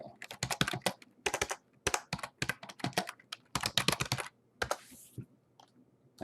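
Typing on a computer keyboard, with rapid bursts of crisp key clicks in uneven clusters separated by short pauses, close and clear with no talk.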